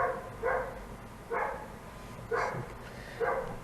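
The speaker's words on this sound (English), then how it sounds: "The dog is going crazy. My neighbor's dog." A neighbor's dog named Bruno barks repeatedly at a distance, four evenly spaced single woofs about a second apart, heard indoors and moderately faint.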